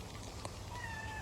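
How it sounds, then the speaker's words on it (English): A garden cat on a homestead gives a single faint, drawn-out meow against soft outdoor background noise. "I spy a garden kitty."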